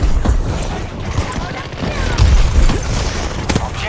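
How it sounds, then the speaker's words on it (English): A grenade explodes in the Battlefield 2042 shooter amid dense combat noise, with heavy low booms and rumbling blasts over a constant loud roar of gunfire and battle, and voices mixed in. "Grenade! Get down!"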